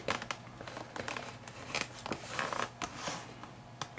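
Leather being trimmed for a knife sheath, with close crinkling and snipping bursts and rustling handling noise in quick irregular succession.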